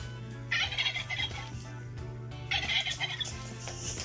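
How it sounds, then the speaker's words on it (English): A turkey gobbles in two rapid, rattling bursts, close and loud, over a steady low hum, with no talking. "Or it's actually a turkey."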